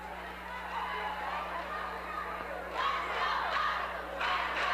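Gymnasium crowd at a high school basketball game with seconds left and a timeout called, a steady roar of shouting and chatter that swells louder in bursts near the end as cheering rises.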